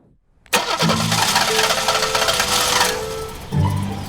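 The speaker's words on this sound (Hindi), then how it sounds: "ये तो मेरी गाड़ी की आवाज है।" A car engine cranks and starts with a sudden loud onset, then revs steadily at a mid pitch for a few seconds and drops back briefly before revving up again, with no voices.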